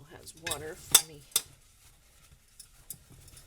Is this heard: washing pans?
yes